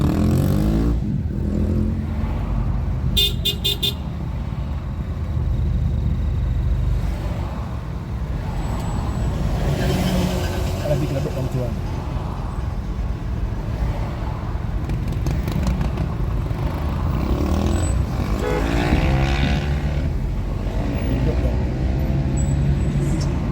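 A motor vehicle travelling through Jamaica between Half Way Tree and Hagley Park Road, its engine rumbling continuously with traffic noise and a brief hiss, while people talk over it on and off.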